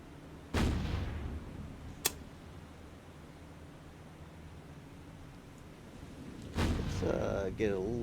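Enemy gunfire in a naval combat game set off Murmansk: two heavy distant blasts rumble across a low, noisy sea-battle backdrop, with a sharp crack between them and a voice talking near the end.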